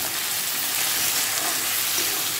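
Tomato and ginger garlic paste frying in a pan, a dense, steady sizzle that holds evenly without pauses.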